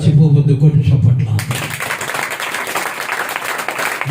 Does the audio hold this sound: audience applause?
yes